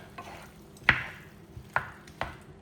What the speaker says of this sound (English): Okay, so we're going to give that a mix around.